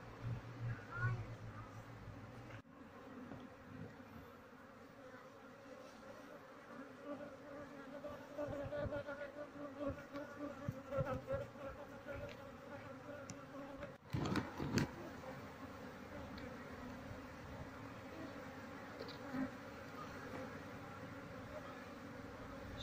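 A low, continuous buzzing of many bees from a queenless wild colony hums throughout, fairly faint, with occasional handling noises and brief clicks.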